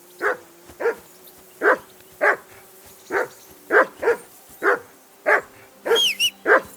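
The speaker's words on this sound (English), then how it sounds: "Jesus, Henry, that barking's driving me nuts. Can you get your dog to shut its beak?" A dog in the video game Kingdom Come: Deliverance II barks repeatedly and loudly up close, about a dozen sharp barks in a steady rhythm with no talking, and a brief whistle-like squeal sounds near the end.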